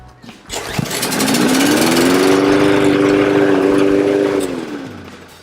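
A single pull catches on a Lawn Boy self-propelled lawnmower and the small engine starts, rising quickly into a loud, steady running drone close by that holds for several seconds before easing slightly.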